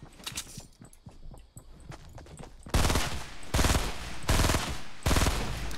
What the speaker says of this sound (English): your shotgun's loud as hell